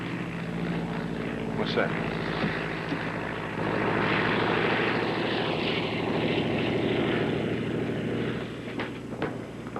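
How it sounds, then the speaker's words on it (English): A propeller airplane drones overhead in a steady, loud engine roar lasting nearly ten seconds, while a voice speaks briefly over it. "Who's in that plane?"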